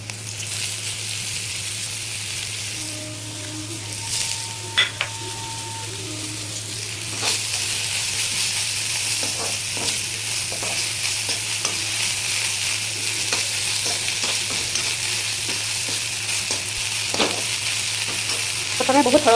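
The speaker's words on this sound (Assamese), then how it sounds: "অলপ পিঁয়াজটো ৰঙা কৰিব দিম" Onion frying in a pan, stirred steadily: a loud, continuous sizzle with repeated scraping strokes of the spoon against the pan, sustained the whole time.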